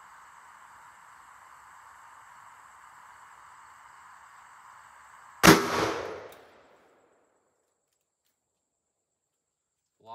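A single sharp .357 Magnum shot cracks from a Taurus Tracker revolver with a 6.5-inch barrel firing Hornady 110-grain XTP rounds, loud and close, its echo decaying over about a second after a steady hum, then silence.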